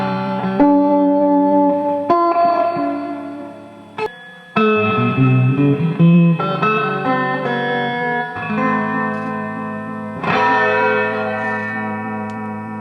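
A Magnatone amplifier fitted with Yellow Jacket EL84 tubes rings out sustained, loud guitar chords and picked notes drenched in reverb, each strum blooming and decaying, with no talking.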